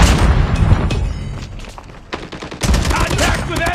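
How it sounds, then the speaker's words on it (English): Call of Duty Mobile multiplayer match with a burst of rapid gunfire and booming blasts, loud and close, dipping briefly before a sharp explosive crack and renewed heavy firing, game voice callouts mixed in. "Grenade out!"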